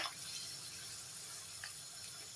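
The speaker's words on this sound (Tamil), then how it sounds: "தண்ணி கொஞ்சம் விட்டுட்டு பார்த்தீங்களா" Steady trickle of water pouring into a cooking pot, a soft continuous splashing stream at moderate level with no voices.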